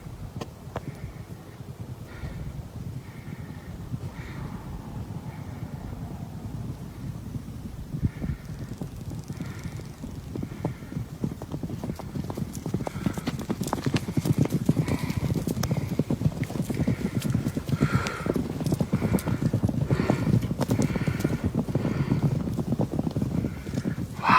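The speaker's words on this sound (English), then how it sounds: "when I heard thundering hooves" Herd of feral horses galloping at Theodore Roosevelt National Park, a dense drumming of hooves that builds and grows louder over about twenty-four seconds, with wind and an occasional faint whinny.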